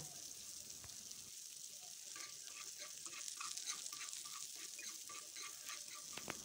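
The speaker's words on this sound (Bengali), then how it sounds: "এখানে একটু ফাঁকা করে ওর মধ্যে আমি কালো জিরে ফোড়ন দিয়ে দিচ্ছি।" Nigella seeds tempering in hot oil in a wok beside fried pointed gourd, a soft continuous sizzle with faint rapid crackles and pops, fairly quiet.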